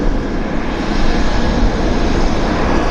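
An airplane taxiing out at Vancouver airport gives a steady, loud broadband engine roar that holds an even level throughout, with no pauses or talk.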